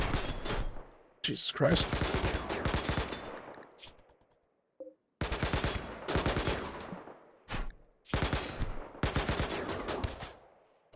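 Bursts of automatic and single gunfire in a Rimworld colony battle come in loud clusters separated by brief pauses, with a man briefly exclaiming between volleys.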